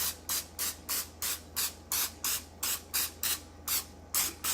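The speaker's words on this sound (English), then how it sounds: "just take your can and just spray a little bit right on the flour" A can of cooking oil sprays onto floured chicken wings in short, even hissing bursts, about a dozen in steady rhythm, close and clear with nobody speaking.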